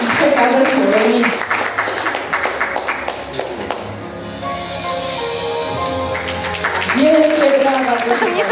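Audience applause for Zuzanna Balonek, winner of the Miss Nastolatek Beskidów 2022 teen pageant, continuing steadily beneath a presenter speaking and music, with a louder burst near the end.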